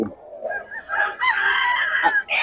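A stag rooster at a cockfighting event in Bocaue crows once, loud and close, a drawn-out strained call lasting about two seconds, with a brief cluck at the end.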